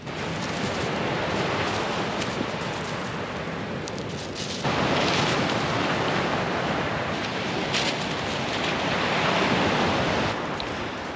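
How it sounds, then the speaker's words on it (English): Ocean surf breaks on a beach in Kona, Hawaii, as a loud, continuous roar of waves and wind that swells noticeably partway through, with no voices. "I didn't know the beach was gonna be this sick"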